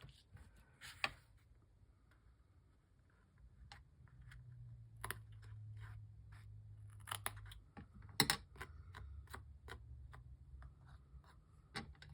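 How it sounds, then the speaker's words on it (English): Small scissors snip in quick, sharp clicks, scattered irregularly over a quiet background with faint low rumbling. "Let me get some little scissors."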